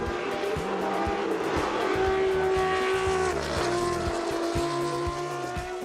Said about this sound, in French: le bruit inoubliable de son moteur V12